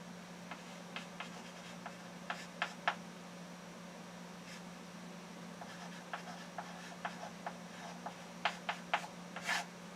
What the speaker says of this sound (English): I'm going to write it over here.